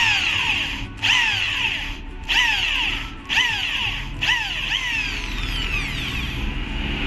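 A power drill bores out the rivets holding the number plate on a Triumph Speed 400 motorcycle. It whines loudly in several short bursts that start and stop about once a second, each burst rising in pitch as it spins up.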